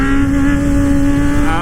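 A 2024 Kawasaki Ninja ZX-6R accelerating hard in third gear during a wheelie, a loud, close, sustained engine whine rising steadily in pitch, with no talking.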